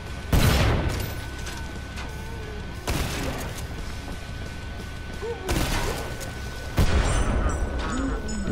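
Thrown grenades exploding in the video game Killing Floor 2, several heavy booms spaced a few seconds apart, each a loud, close burst trailing into rumbling debris and gunfire-like crackle.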